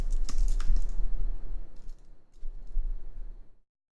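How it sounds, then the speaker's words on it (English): Close, brisk typing on a computer keyboard, a quick run of clicking keystrokes that slows briefly, picks up again, and then stops, leaving silence. "I'm going to type in American Patriot."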